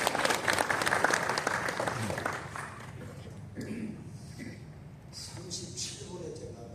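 A church congregation claps loudly in applause that gradually fades, while a voice speaks over the tail end.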